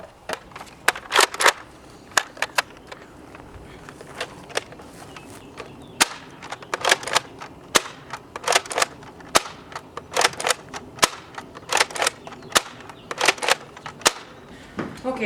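A modified Nerf Longstrike CS-6 blaster fires darts with the barrel removed. Sharp, loud snapping shots repeat in quick clusters, mixed with clicking priming actions, close to the listener with no speech.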